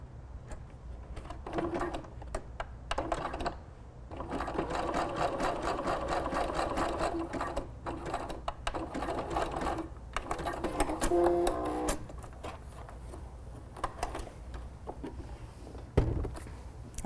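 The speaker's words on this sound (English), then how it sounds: "I'm backstitching." A sewing machine backstitching elastic on a bath towel cap: steady close mechanical whirring and rapid stitching in several runs with short pauses between them, no talk.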